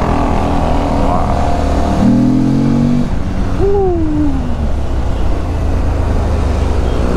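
A 2025 Morbidelli T1002VX motorcycle accelerating on a test ride, its engine note rising and shifting in pitch over a continuous road and wind rush, fairly loud and close.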